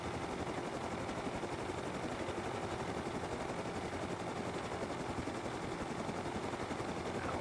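A helicopter in the survival video game Rust gives off a continuous, faint rotor thrum and engine drone, steady and unbroken throughout with no voices.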